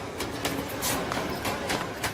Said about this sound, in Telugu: ట్రైన్ వచ్చినట్టుంది.